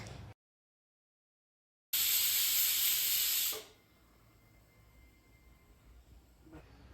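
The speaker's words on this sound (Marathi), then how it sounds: "कुकरला तीन सिट्या करून घेतलेल्या होत्या" A pressure cooker on a home stove releases a loud, steady steam hiss for under two seconds, which then drops to a faint background rush.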